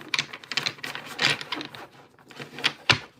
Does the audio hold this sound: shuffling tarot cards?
yes